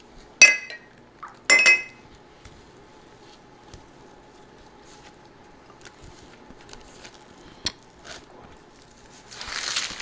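A couple of sharp glassy clinks of a glass in warm water ring out early, followed by quiet, sparse small knocks and a soft splashy rustle at the end, while making sausage pinwheels in a kitchen.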